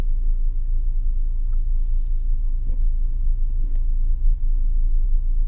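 Mahindra Thar Roxx in 4WD climbing an off-road slope, a steady low engine rumble throughout with faint knocks and rattles, no voices.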